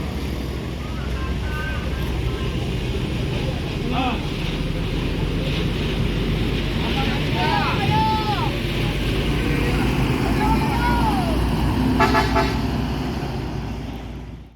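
A bus telolet horn fitted with a Basuri v3 plays several short warbling melodic bursts at a bus terminal, mid-distance over steady engine idle and wind, with the tune repeating at intervals.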